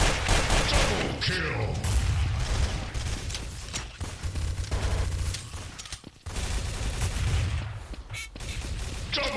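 Dense, near-continuous gunfire from the PC shooter Counter-Strike: Source, with overlapping bursts and rapid shots that barely pause over nine seconds, and a voice talking underneath.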